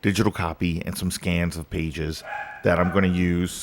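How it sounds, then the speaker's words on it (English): Dog barking indoors, short loud yips and barks heard under and between a person talking close to the microphone. "Sorry, that is my dog."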